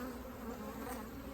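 Bees massed in a mini mating nuc give off a steady, close buzzing drone that holds without a break.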